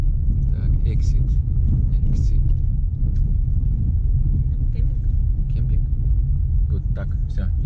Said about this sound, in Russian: я наступаю на газ